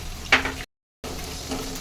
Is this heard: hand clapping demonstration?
no